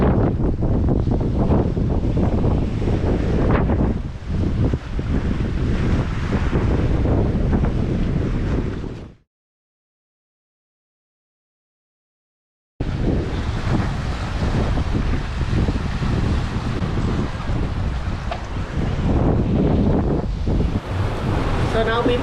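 Strong wind and waves on the South Atlantic Ocean while sailing off Brazil, a loud continuous roar of wind buffeting the microphone over churning water, cutting out completely for a few seconds midway before resuming just as heavily.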